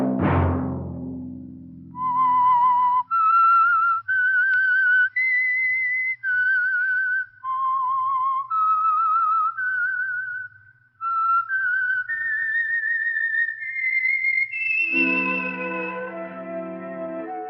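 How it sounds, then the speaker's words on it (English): A whistled melody serves as the theme signal for The Whistler, a Signal Oil radio program: a clear, solo whistle carrying a slow tune of sustained notes, loud and close, closing into a brief orchestral chord. "Let that whistle be your signal for the Signal Oil program, The Whistler"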